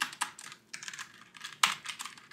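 Steady, brisk typing on a Logitech G915 TKL keyboard with red linear switches, a close run of light clacking keystrokes with a few sharper bottom-out hits and no voice over it.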